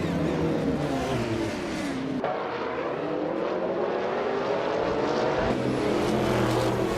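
Several race cars in a video game roar off the start at Mont Tremblant, a vintage 1990 Mazda 787 leading; a dense, continuous wall of engine noise with rising pitch sweeps as the cars accelerate through gears, with no talk.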